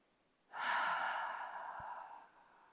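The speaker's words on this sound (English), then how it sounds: "And exhale through the mouth." A single deep exhale through the mouth during a guided breathing cue in a cardio workout, a soft, breathy rush lasting nearly two seconds that slowly fades, close and fairly quiet, with no talk over it.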